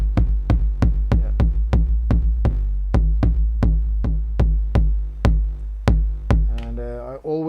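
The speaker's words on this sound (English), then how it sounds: "What I really like doing here is actually combining the analog sound with the digital" Analog kick from an Elektron Analog Rytm MK2 layered with a 909 kick sample, struck in a steady four-on-the-floor run of booming, punchy hits, close and loud, with a short voice near the end.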